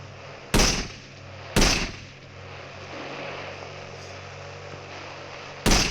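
Sniper rifle shots from the mobile game Indian Bike Racing 3D crack out three times, sharp and loud, with a steady low background hum between the irregularly spaced blasts.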